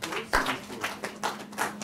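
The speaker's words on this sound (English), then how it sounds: "clap for Fadi" Students in a classroom clap briefly, a handful of soft, scattered claps spaced across a couple of seconds, fairly quiet.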